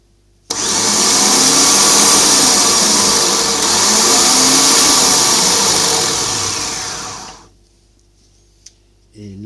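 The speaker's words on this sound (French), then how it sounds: "Là, je fais uniquement tourner le moteur." A car starter motor on a bench spins up abruptly and whirs loudly and steadily for about seven seconds, then winds down and stops.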